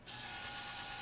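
A toy claw machine mechanism fitted with Sugarloaf claw prongs gives a steady whirring, ratcheting gear drone that runs continuously for about a second, close and moderately loud.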